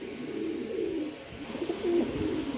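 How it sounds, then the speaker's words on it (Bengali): A pair of large Tiger Grizzle pigeons coo softly and repeatedly close by, a low rolling murmur throughout. "এখানে এক পেয়ার কবুতর দিলাম"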